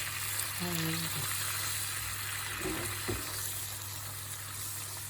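Tomato paste frying in a little oil for oven-baked karnıyarık makes a continuous soft sizzle with brief stirring, under a steady hum and snatches of quiet voices.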